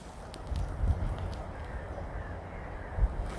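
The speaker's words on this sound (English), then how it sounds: "Oh, some more birds over there." Crows caw a few times outdoors, short harsh calls at a distance over a low, steady background rumble.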